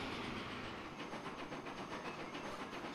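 Trains rolling in and out of stations in the rail simulation game Transport Fever 2, a steady rumbling clickety-clack with hissing undertone, continuous and moderately distant, no voices.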